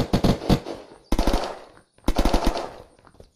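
Rapid gunfire from the Peacemaker gun in the Unturned video game, with three loud bursts of quick shots separated by short pauses, each trailing off into a brief echo.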